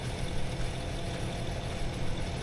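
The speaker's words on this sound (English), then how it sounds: "what a job, what a machine, what a tractor" A tractor in Farming Simulator 22 sits idling, its engine giving a steady low rumble with faint vibration, close and constant throughout the short stretch with no talk.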